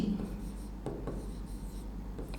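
Pen or chalk writing during a Class 12 electrochemistry lesson on the Daniell cell gives short scratchy strokes with brief pauses, close and moderately loud, with no talking.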